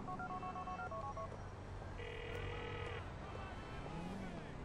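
Phone dialing in the video game Grand Theft Auto IV, a sequence of electronic keypad tones followed by a longer sustained tone, heard over a steady engine and traffic rumble.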